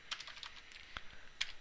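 Quiet keys clatter on a computer keyboard in a short, uneven burst of close taps with brief pauses between them.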